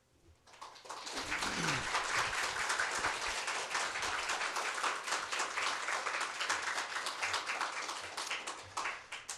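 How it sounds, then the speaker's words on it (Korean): A church congregation at a Sunday worship service claps to encourage a family, the applause swelling quickly and holding as a dense, steady roar of hands for several seconds before tapering slightly. "우리 박수로"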